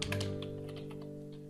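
Quick, soft key taps on a computer keyboard, several close clicks in a short burst over a steady electronic hum.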